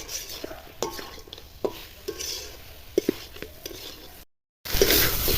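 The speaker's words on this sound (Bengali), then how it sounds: "এবার মাছগুলো দিয়ে নিয়ে আর একটু কষিয়ে নেবো ভালো করে।" A spatula scrapes and knocks against a pan as pieces of snakehead fish are sautéed and stirred in spices, with a series of irregular clinks and soft sizzling, close and moderately loud.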